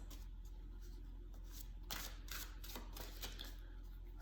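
Tarot cards being shuffled during a reading, a soft papery riffling with quick flurries of flicks over a low background hum, fairly faint and close.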